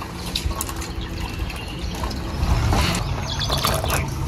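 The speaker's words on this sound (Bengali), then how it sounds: "শিম বরবটিগুলো ভালো করে ধুয়ে নেব।" Flat beans and long beans are washed by hand in water, with sloshing, splashing and clattering of a vessel close by, steady and moderately loud with no speech.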